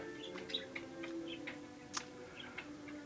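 Pet birds in a home studio give short, faint chirps and tweets scattered irregularly against a quiet background with a steady low hum.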